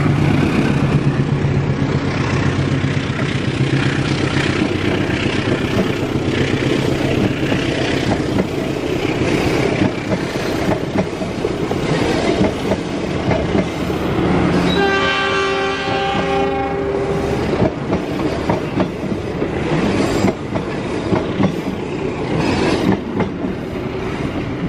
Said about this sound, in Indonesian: Silakan simak keretanya melintas di petak stasiun Leles